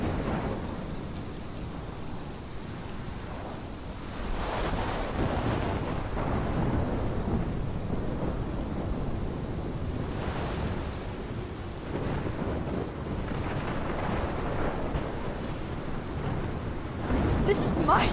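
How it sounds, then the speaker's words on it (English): Heavy rain pours steadily throughout a thunderstorm in the game Life Is Strange, with rolling thunder swelling and booming several times, loudest near the end; faint voice-like sounds sit under the storm. "This is my storm."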